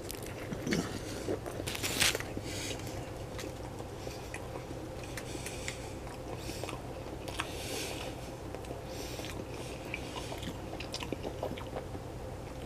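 Close, quiet chewing of a Dunkin' Donuts turkey sausage, egg and cheese breakfast sandwich, with soft bites and mouth sounds that continue throughout with no talking.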